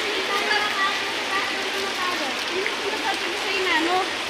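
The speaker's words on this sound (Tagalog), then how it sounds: "Lakas na ng ulan. Inabutan na kami dito ng ulan guys." Steady heavy rain hisses close by in a dense wash, with faint voices talking underneath.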